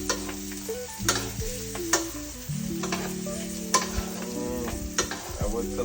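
A pork chop sizzles in a pan while it is basted in butter. A constant crackling fry runs throughout, with sharp clicks and scrapes as the spoon and pan are handled.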